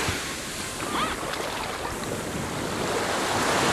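Surf washing onto a quiet beach, a broad steady roar of waves mixed with wind buffeting the microphone, with faint voices in the distance.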